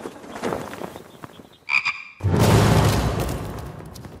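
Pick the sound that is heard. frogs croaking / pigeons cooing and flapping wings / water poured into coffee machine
frogs croaking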